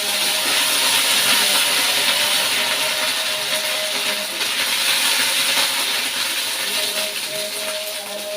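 Raw ginger dropped into a hot tempering of bay leaf, cumin and radhuni spices, hissing with a loud, steady broadband sizzle throughout with no talk.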